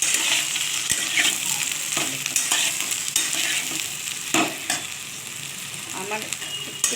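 Ridge gourd frying in a spice tempering of bay leaf and dried and green chillies, a bright hissing sizzle close up, broken by repeated spatula scrapes and stirring strokes.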